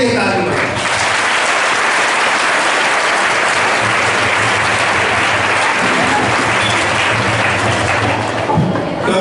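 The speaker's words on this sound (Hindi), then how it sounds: "जोरदार अपने लिए ताली बजाएं।" Loud, sustained audience applause fills a dome inauguration ceremony at a government higher secondary school in Nagda, a dense steady roar of many hands lasting several seconds without easing.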